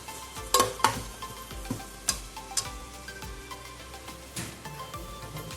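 Chopped tomatoes sauté for Chennai-style chicken biryani as a spoon stirs them in the pot. There is a soft sizzle with scattered clinks and scrapes of the spoon against the vessel, fairly quiet and close.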